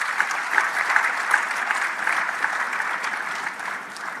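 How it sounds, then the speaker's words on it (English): Clapping from a summit audience in Ghana honoring visiting central bank governors, a steady wash of many hands at moderate loudness that tapers slightly toward the end, with no speech. "I believe they deserve a special round of applause"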